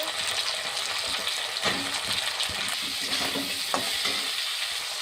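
Eggplant pieces frying in a pan for a homestyle hilsa fish curry, a steady broadband sizzle with scraping stirs and a few sharper clinks, close and fairly loud, no talking.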